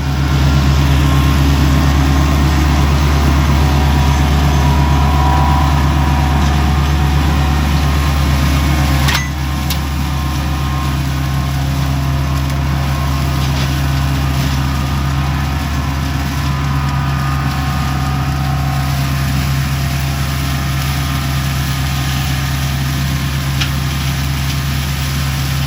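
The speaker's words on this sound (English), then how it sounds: "So let me get on top of the tractor." A loud, steady tractor engine drone runs throughout, a constant low rumble close by with a brief knock partway through.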